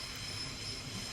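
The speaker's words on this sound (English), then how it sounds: "That's the train line" A train rolls along a nearby rail line in a loud, continuous roar with wheel squeal and rumble filling the whole moment, with no talking over it.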